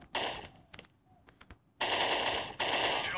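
Automatic gunfire in the shooter game Crisis Action, with short scattered bursts and single shots followed by two long, loud sustained volleys of rapid fire, close and harsh, without talk over them.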